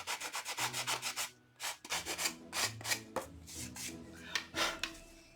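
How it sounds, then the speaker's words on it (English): A sanding block rubs back and forth over the rough edge of a wooden Dollar Tree Christmas sign piece, making a steady train of close, scratchy strokes with one short pause. "just take your sand block and just go over that edge lightly"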